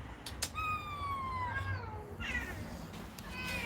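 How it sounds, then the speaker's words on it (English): A cat meows several times, a drawn-out descending meow followed by shorter calls, fairly close and clear over a quiet room with no speech. "I hear you, Chairman Meow"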